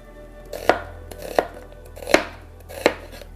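A knife cuts a green pepper into julienne strips on a board with four sharp, evenly spaced chops, close and clear with no talk.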